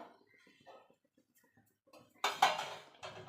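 A spoon works orange cake batter in a mixing bowl, starting with faint scrapes and soft taps, then louder clinks and scraping strokes close by toward the end.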